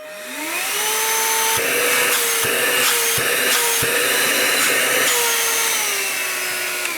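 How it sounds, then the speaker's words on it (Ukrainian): Einhell TE-HV 18/06 Li cordless handheld vacuum running steadily at close range, a high whining motor with airflow hiss, briefly dipping in pitch several times as the nozzle is moved or blocked. "Для такого пилососа акумуляторного це, як на мене, досить серйозна тяга."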